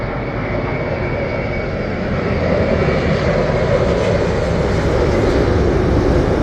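A British Airways Boeing 787-8 Dreamliner lands at Heathrow with a steady, loud jet engine roar that swells slightly and holds to the end.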